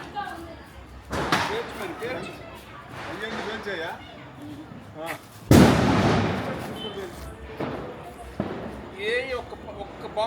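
Firecrackers bursting outdoors near a parked car during a festive celebration, several sharp loud bangs scattered across the stretch, one especially strong blast midway, with people talking throughout.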